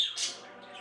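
Pet birds give a short, shrill squawk that rises and fades, followed by a softer chirpy tail. The call is fairly close and moderately loud, with no talking.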